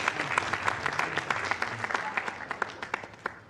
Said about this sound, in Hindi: तालियों से इनको आपको विदा करना है।